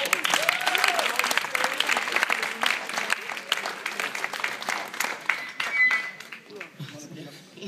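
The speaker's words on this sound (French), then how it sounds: "venez, sous les applaudissements du public" An audience at a radio singing contest final applauds in a hall, sustained clapping of moderate loudness that thins toward the end, with people talking over it.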